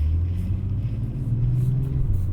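A 2024 Acura TLX's engine drones and rumbles steadily from inside the cabin during a manual downshift, with a low revving hum holding throughout.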